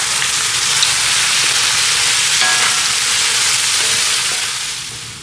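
Cubed, peeled tomatoes being mixed into chicken gizzards frying in a pan, giving a steady loud sizzle and hiss throughout with faint stirring scrapes, no voices, fading slightly at the end.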